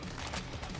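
In the video game Killing Floor 3, a weapon fires single gunshots, heard as a short burst of loud, dense, noisy blasts.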